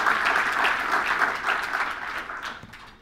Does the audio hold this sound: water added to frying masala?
no